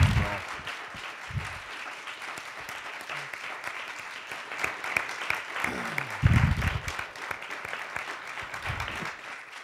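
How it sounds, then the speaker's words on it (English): Audience applauding for Patrick at a personal and political recovery event, steady crowd clapping throughout with some low voices and murmurs underneath, swelling slightly near the end. "Let's give Patrick a round of applause"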